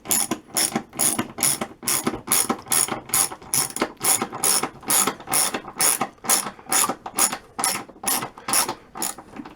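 Rapid, even clicking of a socket ratchet driving a long-threaded lag bolt while mounting a bench vise, close and loud, in about twenty regular bursts of strokes with no voices.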